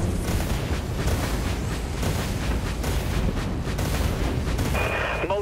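Autoguns fire continuously aboard a ship in the game Dreadnought, a dense, loud barrage of rapid booming shots and impacts that runs throughout, ending with a brief electronic tone.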